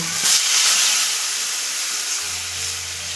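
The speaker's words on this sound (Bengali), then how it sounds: "এক মিনিট রান্না করেছি এরপর আমি দিয়ে দিচ্ছি জল" Water poured into a pan of frying small mourala fish with raw mango, a loud steamy hiss and sizzle that flares up at the start and settles into a steady bubbling simmer, with no talking.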